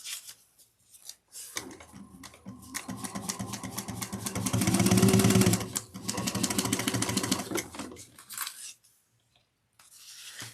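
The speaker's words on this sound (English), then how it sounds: "And then we're going to sew down the center" A sewing machine runs in a few bursts of rapid stitching down the center of fabric pockets for a train case, with short pauses between runs and near silence at the end.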